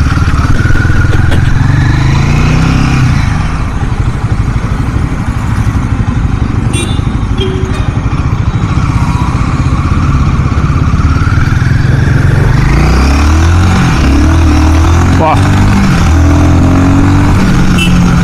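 A Royal Enfield Guerrilla 450 roadster motorcycle pulls hard in second gear, its engine note rising and falling loudly with rushing wind noise throughout, recorded up close while riding.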